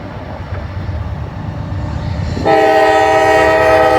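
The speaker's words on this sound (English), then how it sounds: "got us a CSX here. Looks like this is going to be a grain train" A CSX grain train passes close by, its rumble building before a loud, sustained horn blast cuts in and holds to the end.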